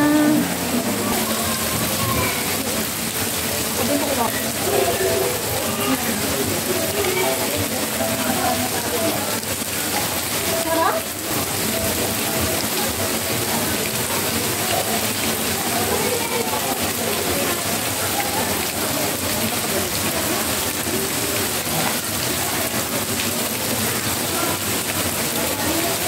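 Steady rushing water pours and splashes at Amadeo Balite Resort in a loud, continuous broadband wash lasting the whole stretch, with the flow dipping briefly near the middle.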